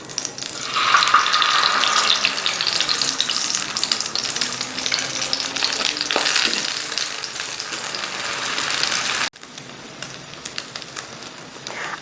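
Bread slices for a breakfast egg bread fry in ghee with a loud, bubbly sizzle for about nine seconds, then the sound drops abruptly to a quieter, fainter hiss; nobody speaks.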